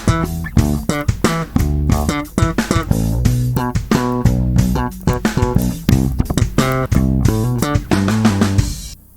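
Electric bass playing a line, punchy slapped and plucked notes with quick hammer-ons in a steady, busy funk rhythm, loud and close with no voice.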